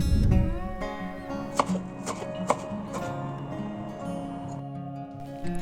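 A knife chops dill steadily on a cutting board, a few sharper taps standing out over a low background hum.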